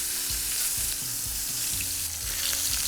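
Pork chops on a grill give off a steady, close sizzle, with a constant bright hiss and soft popping underneath and no voices.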